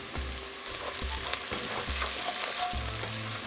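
Chopped garlic sizzles in a hot pan, a close, constant frying hiss marked by a regular rhythm of low stirring thumps. No voices are heard.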